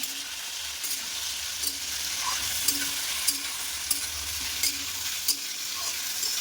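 Boiled soybean chunks fry in a pan while being stirred, a steady close sizzle punctuated by regular spoon taps and scrapes roughly every half second to second.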